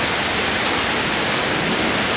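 Heavy rain falls over Toronto near an outdoor swimming pool, a dense, unbroken hiss of drops hitting surfaces that holds loud and even throughout.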